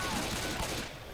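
Rapid gunfire from teammates in the Left 4 Dead 2 Carnival campaign, a dense continuous rattle of shots that thins slightly toward the end.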